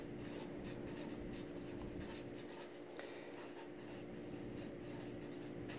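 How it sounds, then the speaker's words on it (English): A pen scratches steadily across a surface while a solution sentence is written out in a math lesson; continuous, close scratching strokes with no talking. "And then we write our solution sentence."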